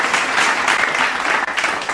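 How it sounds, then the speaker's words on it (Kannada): Loud, dense applause from an audience at a dance competition, a continuous wash of clapping that fills the space with no voices over it. "ಜೋರಾದ ಚಪ್ಪಾಳೆ ಬರಬೇಕು."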